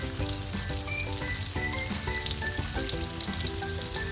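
Sliced Hungarian sausage fries in a pan, giving a loud, continuous close sizzle with crackling pops and a faint tonal hum underneath. Nobody speaks.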